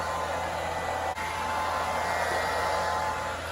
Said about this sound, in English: A lot of hair that I gotta blow dry before I go outside.